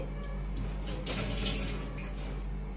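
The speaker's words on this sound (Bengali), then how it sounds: "হাতটাকে একটু ধুয়ে নিচ্ছি।" Hands washed under running tap water in a home kitchen, a steady close splashing stream for a few seconds with a brief louder swell in the middle.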